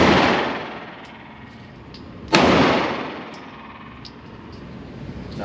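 Handgun shots fired during concealed carry pistol practice: one sharp, loud report cracks midway, followed by a long echoing decay, with fainter earlier impacts and lingering room rumble.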